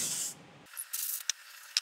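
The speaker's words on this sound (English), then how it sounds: "Compressed air duster." Compressed air duster spraying in light bursts around a Bambu Lab P1P 3D printer, a long hiss at first followed by several short, sharp puffs, close and fairly quiet.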